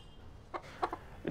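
Pet rooster giving a few quiet, short clucks in uneven bursts, fairly close but soft, with no voices.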